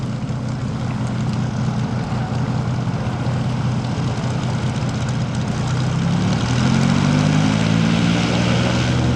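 A silver seaplane taxiing on Otsego Lake and swinging through a 180-degree turn on the water, its propeller engine droning steadily nearby, the pitch rising and beating as it comes round.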